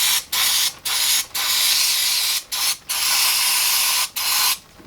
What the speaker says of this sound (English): we'll just spray that out